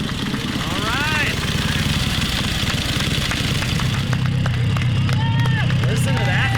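Vintage 1913 motorcycle engine running nearby at a gathering, a steady loud chugging idle that continues throughout, with people talking over it.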